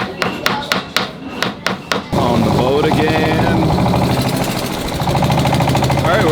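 A boat engine on Inle Lake in Myanmar starts with several sharp knocks and then settles into a loud, steady drone. People talk over it.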